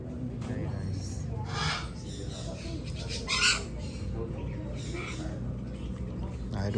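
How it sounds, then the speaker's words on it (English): Parrots squawk in bursts inside a parrot retail store, loud broadband calls rising several times over a busy background of store noise and people talking. "Look at this beautiful parrot."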